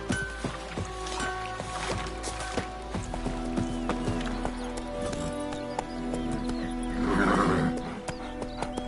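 Roach, a horse in a video game, lets out a neigh and whinny near the end, over steady clip-clop hooves and a low ambient hum.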